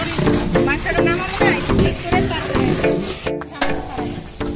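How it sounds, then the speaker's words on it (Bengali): Khichuri cooking in a large pot for a big monsoon festival crowd, with steady bubbling, stirring and scraping sounds under lively talk and background voices throughout. "জটিল রান্না, খিচুড়ি রান্না হচ্ছে।"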